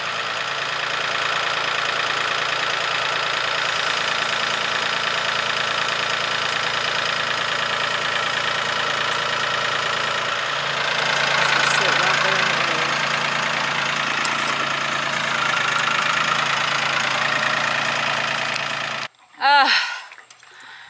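A tractor engine drones throughout at a constant loud level on a farm, rising briefly mid-way, then cuts off near the end with a short burst of other noise.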